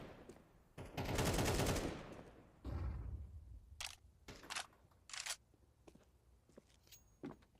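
Tap-fired gunshots in Counter-Strike 2 during an esports cup match: a loud, sustained burst of fire, then a series of separate sharp single shots spaced unevenly over a quieter game background.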